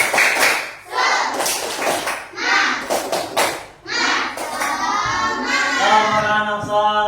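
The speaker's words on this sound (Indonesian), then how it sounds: "tepuk semangat ya. Tepuk semangat." A group of children chants together in an Indonesian classroom, beating out a rhythmic clap pattern of sharp, closely spaced hand strikes and thumps between and under their sung voices.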